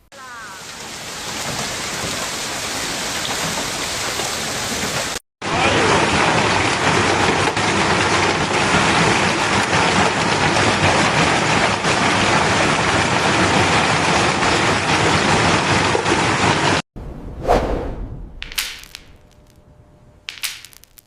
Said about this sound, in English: thousands of ice pellets rained down from dark storm clouds overhead